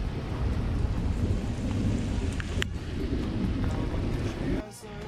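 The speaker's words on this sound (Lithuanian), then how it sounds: "Lietus dar tęsiasi." Steady rain falls on a river during a kayak trip, a dense even wash running the whole time with a brief lull near the end, over low rumble.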